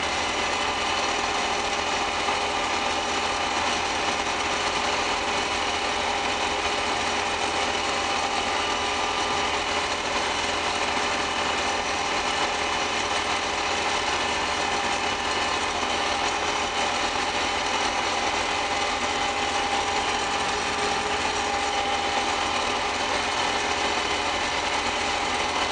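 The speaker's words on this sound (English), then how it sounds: "Stuff's actually going through the combine." A combine harvester running while cutting wheat gives a steady, loud mechanical drone with a rattling, whirring texture. The sound is continuous and close for the whole stretch, with no speech.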